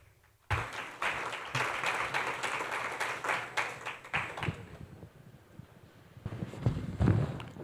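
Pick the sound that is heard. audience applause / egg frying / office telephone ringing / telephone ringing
audience applause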